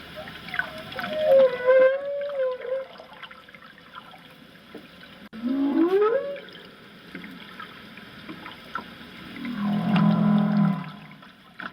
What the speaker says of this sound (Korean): 혹등고래의 세레나데다